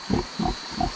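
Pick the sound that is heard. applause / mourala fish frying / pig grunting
pig grunting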